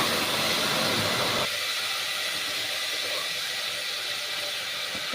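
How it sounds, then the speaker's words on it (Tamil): Chopped tomatoes sautéing in a pan while kusku rice is cooked, a steady loud hissing sizzle that drops to a softer, even sizzle partway through, with no talk. "இப்போ தக்காளி பழம் கட் பண்ணி வச்சுருக்கிறது போட்டு வதக்கவும்."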